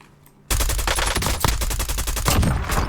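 After a brief quiet moment, rapid automatic gunfire in the video game Warzone erupts and continues in fast, loud bursts of shots, sounding close.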